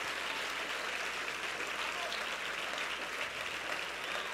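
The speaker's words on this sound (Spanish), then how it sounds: "darle el mejor aplauso de ahí al Señor" Church congregation applauding during a sermon, steady and distant-sounding, a continuous wash of clapping at low level throughout.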